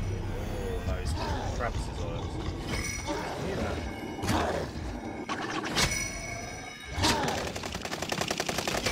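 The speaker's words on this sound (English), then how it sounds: "Gunfire" Sharp gunshot bursts crack repeatedly in Call of Duty Warzone on the Caldera map, including a rapid stuttering volley near the end, amid constant game noise with people talking over it.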